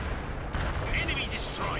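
Gunfire and artillery in the World in Conflict Soviet assault, a steady rumbling battle din of distant shots and blasts under game radio chatter and voices.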